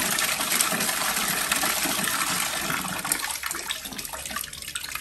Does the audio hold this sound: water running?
yes